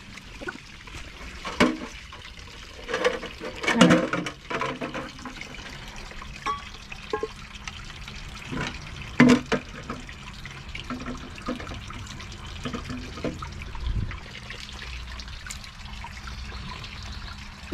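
A creek's cold water trickles and splashes steadily at close range, broken by irregular louder sloshes and drips, with no talk.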